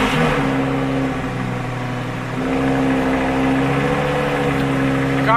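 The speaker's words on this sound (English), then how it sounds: "The car is basically so loud when it starts up initially" Loud, steady engine of a Lamborghini after a cold start on a winter day, a deep droning idle heard close and alone with a slight dip midway before the rumble settles again.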